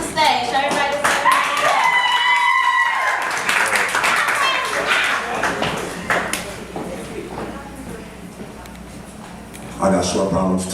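Audience claps as a performer is called to the stage at a spoken word poetry event, scattered clapping mixed with cheers and voices, loud at first and then settling under talk.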